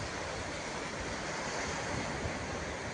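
Steady broadband wash of surf rolling in at the shore in Dapoli as the tide recedes, constant and fairly loud, with wind buffeting the microphone throughout. No voices.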